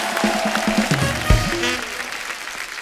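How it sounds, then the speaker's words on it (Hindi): A studio audience at a TV comedy show claps to welcome the guests. The moderate, fairly brief applause is mixed with tonal sounds and a thump near the middle. "जोरदार तालियां"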